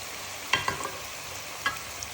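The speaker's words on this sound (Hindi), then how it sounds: "बिरयानी मसाला, कलौंजी, ज़ीरा, और इसको भी फ्राई कर लेंगे।" Whole spices and biryani masala with nigella seeds and cumin frying in a pan for chicken biryani, a soft continuous sizzle broken by a few sharp stirring scrapes, close and alone with no talk.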